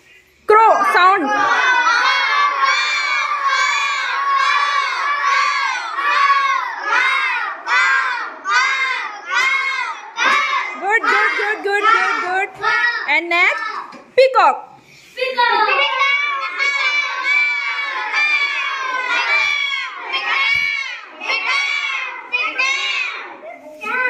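A classroom of children imitates a crow's call, voicing repeated loud caw-like shouts in quick bursts for over twenty seconds, with a brief pause near the middle and some overlapping voices.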